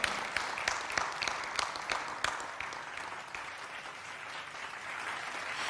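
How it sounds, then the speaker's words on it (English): Sustained audience applause at a business forum, a dense steady patter of many hands clapping throughout without talk. "please give a big round of applause for INA Access Platform"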